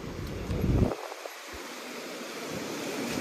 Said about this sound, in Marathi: खतरनाक लाट आहेत भाऊ